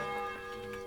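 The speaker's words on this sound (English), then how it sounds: "The bell's ringing for Hans the 5th time." Church bell tolling in the medieval world of the Kingdom Come Deliverance 2 game, a sustained ringing tone heard alone and fairly steady across a brief moment.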